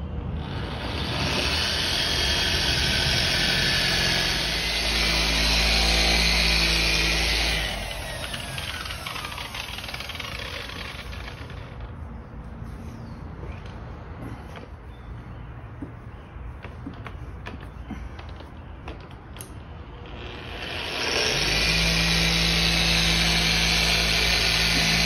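A power sanding machine runs over drywall compound with a loud, steady whir that drops in pitch and level midway, then returns to full strength near the end, with no talking.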